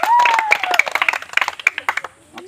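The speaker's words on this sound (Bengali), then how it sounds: "সবাই একটু হাতে তালি একসাথে" A group claps hands together in unison: a steady run of sharp, evenly spaced claps that thins toward the end, with a voice and a thin whistling tone over the start.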